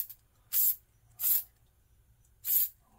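A lubricant spray bottle gives three short, sharp hissing bursts onto a Glock pistol's barrel and recoil spring assembly during armorer-level reassembly, evenly spaced and close to the microphone, with quiet pauses in between.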